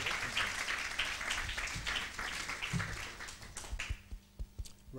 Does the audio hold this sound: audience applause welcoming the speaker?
yes